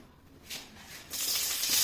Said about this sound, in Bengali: নে তেল গরম হয়ে গেছে, পুরোটা পুরোটা ঢেলে দিয়ে দে